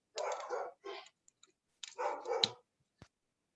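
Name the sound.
dog barking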